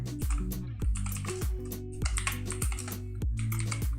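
Rapid typing on a computer keyboard while writing HTML form code, with quick clusters of key clacks in an uneven rhythm, close and clear, and no voices.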